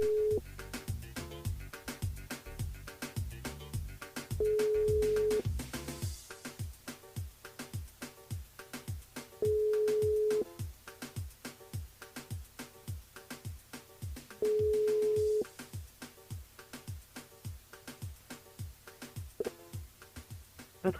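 A telephone ringback tone sounds while a radio host calls a contestant, with long tone bursts repeating at regular intervals over a steady background of rhythmic music.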